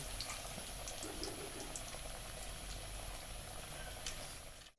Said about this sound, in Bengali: আমার সব কেএফসি ভাজা হয়ে গেছে তুলে নিচ্ছি